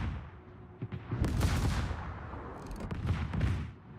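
Warship cannons fire in a naval battle video game, a cluster of loud booming shots with rumbling tails. The blasts overlap in quick succession across a few seconds.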